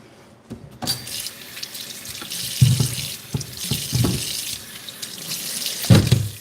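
Produce is rinsed under a running kitchen tap, the water hissing steadily while hands move it about, with splashes and a few soft clunks near the sink.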